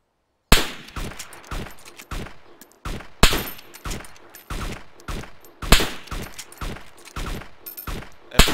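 Sniper rifle shots ring out in the game DayZ near Myshkino, a rapid series of loud, sharp cracks fired in quick succession, each with a brief echoing tail, alone without talk.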